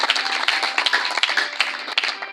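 A church congregation claps together in a lively, fairly quick rhythm, the close sharp hand claps forming a steady patter.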